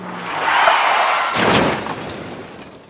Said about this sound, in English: a loud crashing sound comes from the entrance